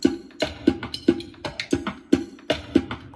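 A steady drum loop repeats with punchy low hits and crisp hi-hat ticks in a tight, even rhythm, played alone.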